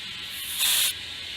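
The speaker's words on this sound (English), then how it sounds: "You fill it with air until it pops and then check the air pressure." Compressed air rushes into a large tire to seat its bead on the rim, heard as a steady hiss that swells louder for a moment and then settles back to a softer, continuous flow.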